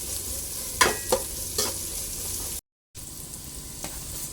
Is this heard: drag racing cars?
no